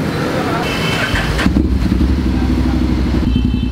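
A Honda X-ADV 750 motorcycle exhaust rumbles loudly up close, rising into a revving roar about a third of the way in, with brief voices at the start.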